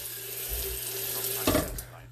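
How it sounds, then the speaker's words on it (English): Water runs steadily from a tap in a close, continuous splashing stream, with a low hum underneath and a brief clunk partway through. "Y'all get to hear the water run."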